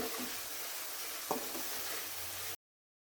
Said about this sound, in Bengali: তেল গরম হয়ে গেছে, এখানে 2 টেবিল চামচ পেঁয়াজ বাটা আছে, আমি দিয়ে দিলাম।